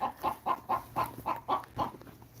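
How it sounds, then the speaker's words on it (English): A chicken clucks in a steady run of about eight soft, evenly paced clucks on a farm during evening chores, close but fairly quiet, with no talk over it. "I've been trying to let this chicken out here."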